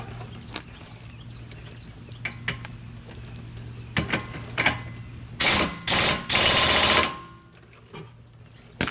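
A cordless impact wrench snugs a rear hub nut on a 2006 Honda Accord, firing in a few loud, close bursts of rapid hammering around the five-to-seven-second mark after softer clicks and handling noises.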